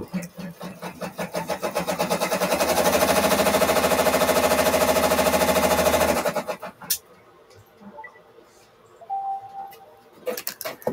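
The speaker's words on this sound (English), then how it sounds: "The lady says to keep a watch on the bottom." An embroidery machine stitching a fanny pack design in the hoop, a fast rhythmic mechanical clatter that builds and holds loudly for several seconds, then stops, followed by faint handling noises and scattered clicks.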